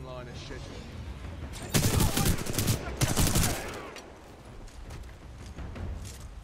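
Rapid bursts of gunfire from the video game Titanfall 2 rattle out in two loud volleys, followed by quieter scattered shots and background game noise.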